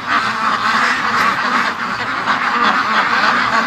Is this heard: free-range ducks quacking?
yes